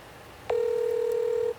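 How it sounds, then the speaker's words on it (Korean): A single telephone tone sounds alone during a call, one steady, loud beep held for about a second after a brief click, with a faint higher tone above it. "한번 전화를 드려보도록 조용히 하겠습니다"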